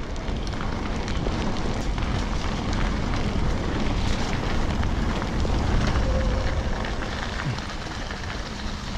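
Strong wind roars continuously across the microphone on a wet summer mountain bike ride in Britain, a dense rumbling buffet with no break.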